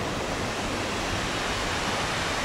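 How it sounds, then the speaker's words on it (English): A waterfall on the Camino route between Santiago, Muxia and Fisterra roars as a dense, steady wash of rushing water, loud and unbroken throughout. "Waterfall."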